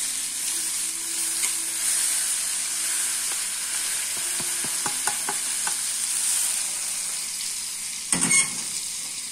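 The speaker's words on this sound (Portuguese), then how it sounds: "eu estou fritando linguiça e bacon" Sausage and bacon fry in a pan with a steady close sizzle, broken by scattered clinks and scrapes of a utensil and a louder clatter near the end.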